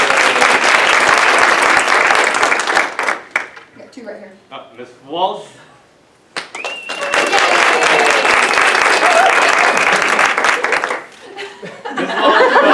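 A school audience applauds for a teacher, dense clapping that swells loud, fades as someone speaks into a microphone, then surges again into long sustained applause with scattered cheers before tapering.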